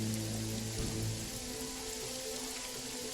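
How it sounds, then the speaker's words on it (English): Steady rain and storm noise in a mercenary squad tactical RPG, a constant hiss of falling rain with a low tonal hum beneath. "It's raining and storming now,"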